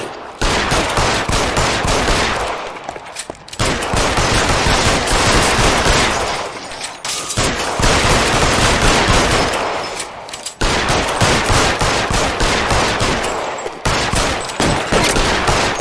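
Gunfire in the crime video game L.A. Noire, long dense bursts of rapid shots in heavy volleys separated by brief lulls, loud and close with no talking.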